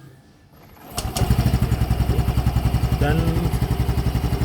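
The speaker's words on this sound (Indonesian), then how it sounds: "suara mesinnya itu sangat halus" A Yamaha Freego 125 cc scooter starts up with a quick whirring crank and settles into a close, steady, smooth idle with a rapid even pulse, while someone talks briefly.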